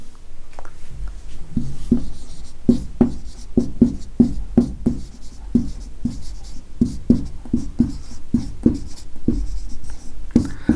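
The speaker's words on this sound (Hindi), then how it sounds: "लिखते हैं बच्चा, बिलार्ड फ्रैंक लिब्बी।" Pen writing on paper during a Hindi general-knowledge quiz session, a steady run of close, distinct scratchy strokes in an irregular rhythm, alone with no talking.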